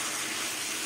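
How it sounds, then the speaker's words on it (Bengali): A little water poured into cauliflower and prawn curry in a cooking pan, a steady close splashing gush filling the whole short moment without any talk. "সামান্য করে একটু জল দেবো"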